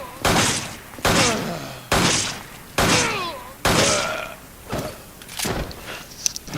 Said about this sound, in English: now let's test the P226 on a Magini, starting with non-upgraded